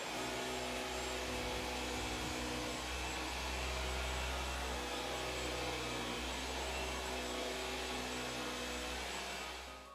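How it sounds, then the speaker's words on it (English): A Dyson V15 Detect cordless vacuum cleaner running in eco mode on carpet gives a steady, even motor whine and airflow hum, close and unbroken for the whole stretch before it winds down at the end. "I hoovered the small part of the carpet."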